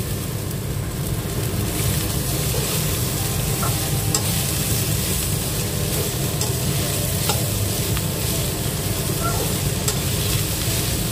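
Crushed boiled potato being stirred and mixed with spices and asafoetida in a hot pan, a loud, steady frying hiss throughout with occasional faint clicks of a spoon against the pan, close and unbroken by speech.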